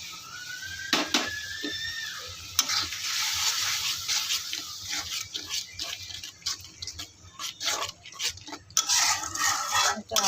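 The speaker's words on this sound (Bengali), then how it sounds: "এটা আবার কষিয়ে নিব ভালো করে, যেন কোনো গন্ধ না থাকে" Beef liver and spleen cooked down with ground spices and a little water in a pan: watery bubbling and spattering, with repeated clinks and scrapes of a spoon against metal, close and uneven.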